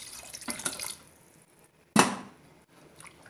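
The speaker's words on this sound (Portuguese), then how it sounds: "você pode acrescentar um pouco mais de água" Water pours into a pot of tripe and white beans, a brief splashing gush cutting in sharply midway, set among softer kitchen clatter and stirring noises.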